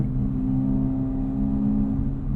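Acura Integra Type S with a Milltek catback exhaust holding around 4,000 RPM, a steady, loud droning engine and exhaust resonance with strong low harmonics, continuous throughout with no talking.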